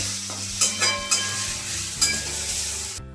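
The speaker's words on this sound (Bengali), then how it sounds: "পেঁয়াজটা একবারে লাল করে দিতে হবে" Onions frying in a pan until reddish-brown for a mutton rogan josh, a steady close sizzle with a few sharp clinks and scrapes of stirring, alone with no voices, cutting off abruptly at the end.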